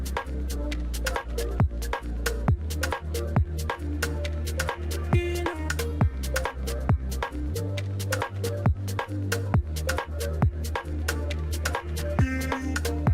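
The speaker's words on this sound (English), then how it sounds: "how I came to making this Future Garage drop" A Future Garage drop plays loud and continuous, with punchy, swung drum hits over a deep sustained bass and layered synth chords, and no voices.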